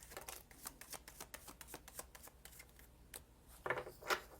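A quick run of tarot card shuffling, rapid papery flicks close by, ending with a couple of softer slaps as the deck settles.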